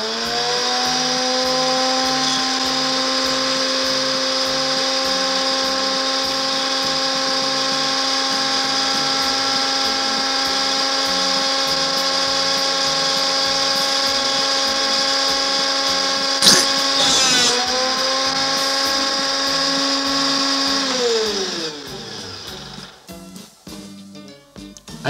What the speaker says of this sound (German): Das Geräusch einer Säge will er jetzt auf Band mitschneiden.